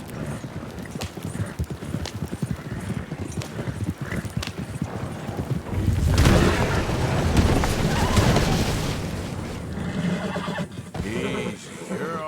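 In the video game Red Dead Redemption 2, a horse's hooves clop steadily up close. A loud whinny rises midway, and softer neighing sounds follow near the end.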